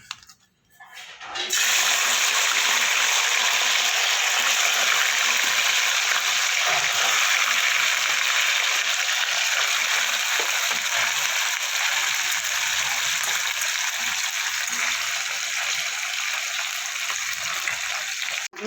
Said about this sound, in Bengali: এবার আমি মাছগুলো ভেজে নেব খুব লাল করে ভাজবো না কিন্তু অল্প করেই ভাজবো